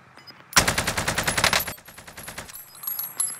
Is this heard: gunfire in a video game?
yes